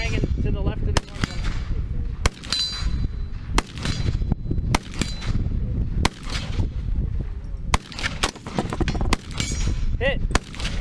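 Sharp gunshots ring out at hanging shooting targets, roughly eight loud separate cracks spaced a second or more apart, with people talking between them.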